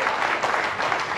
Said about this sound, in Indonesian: tepuk tangan Bang Karni